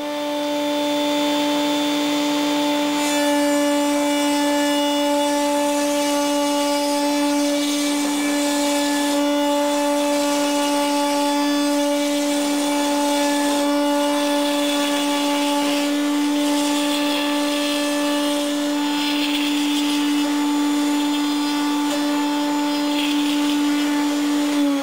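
A router mounted in a router table cuts a mortise into a wooden workpiece held between stop blocks, producing a loud, steady high-pitched whine that runs continuously throughout with only slight shifts in tone.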